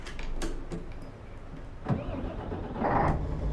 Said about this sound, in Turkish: Şimdi aracımızı biz Çalıştıralım